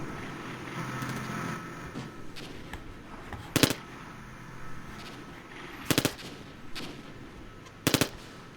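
Machine gun fire in the Armored Brigade war game comes as three short, sharp rapid bursts against a low, steady rumbling battlefield backdrop.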